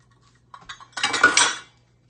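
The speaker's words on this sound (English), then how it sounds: "I'm just going to stir it on around. And just stir them in." A spoon stirs chocolate chips into an almond butter bar mixture in a bowl, a few light clinks followed by a short scraping, clattering burst of metal against the bowl, close and alone.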